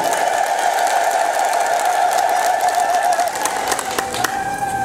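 Ethiopian Orthodox church congregation ululating in praise during a sermon, a loud sustained high trilling chorus filling the space, with a few sharp claps or clicks near the end.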